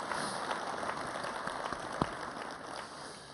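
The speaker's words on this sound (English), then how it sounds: "why don't we give that team a round of applause" A conference audience at a naval keynote event claps in a distant, even wash of applause, fairly faint and steady with scattered sharper claps.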